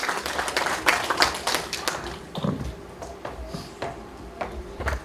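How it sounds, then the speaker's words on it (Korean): An audience claps and taps in scattered, uneven applause to welcome a poetry reciter at a Korean poetry book launch event, the clapping bursts rising and thinning with a few thumps and faint voices underneath. "여러분 큰 박수로 한번 맞이해 주시기 바랍니다"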